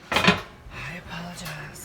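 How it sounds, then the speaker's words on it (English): Metal stove grates clank together as they are wiped and set aside, one brief close rattle of metal on metal followed by softer handling and a faint voice. "wipe the top of all my grates off before I set them to the side."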